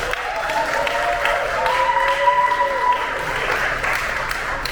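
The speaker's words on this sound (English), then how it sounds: "Let's give them all a round of applause." Applause from an audience in a legislative chamber for honorees at a Philadelphia–Liberia bicentennial celebration, steady clapping with murmuring and a few cheers, under background sound.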